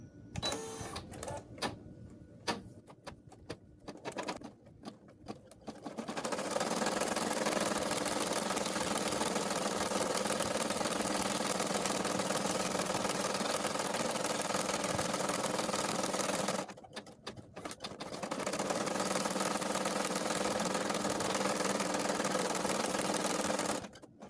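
An embroidery machine sews a placement stitch on fabric for a cloth doll's leg, a loud, steady mechanical whir with rapid needle rhythm that starts after a few seconds of clicks, pauses briefly, then resumes.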